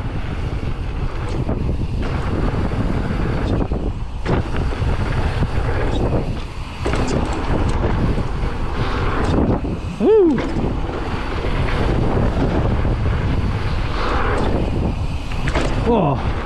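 Strong wind buffets the microphone on a bike park trail, a loud, continuous roaring rumble that surges and eases, with a short rising whistle-like tone near the middle and occasional voices under it.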